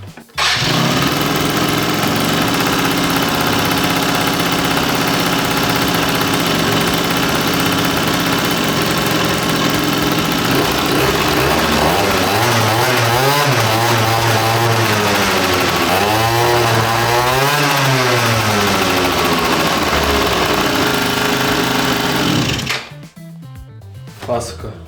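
A small engine, after spark trouble, catches and runs with a loud, steady buzzing drone that climbs and dips in a few revs before cutting off abruptly near the end.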